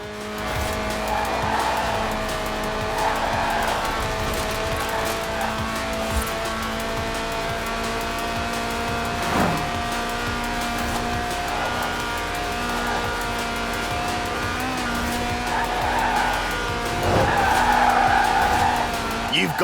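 A lightweight sub-700-kilo car in Forza Horizon 4, its 190-horsepower 1.8-litre engine revving toward 8,000 RPM, holds a steady, loud, buzzing drone for the whole stretch while drifting, with repeated bursts of squealing tyres rising over it.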